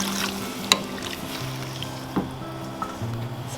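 Split peas sizzle and fry in oil in a hot pot while stock is poured in, a steady close crackle with a few sharp clinks and stirring knocks, no talking.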